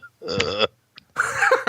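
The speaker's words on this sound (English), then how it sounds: "Got to clear my throat." A person clears their throat, a short rough rasp followed by a second longer guttural burst, close and fairly quiet.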